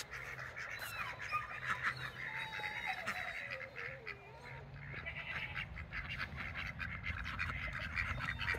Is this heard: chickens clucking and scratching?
yes